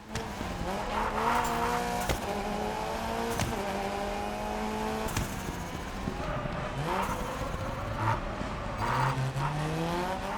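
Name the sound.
car engine and tires in the racing video game Gravel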